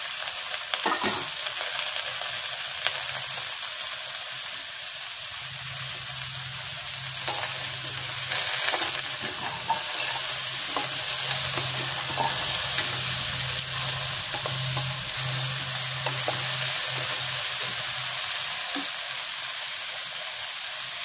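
Vegetables fry in oil for Bengali shukto with a continuous close sizzle and repeated scraping stirs, while a low steady drone hums underneath through much of the middle.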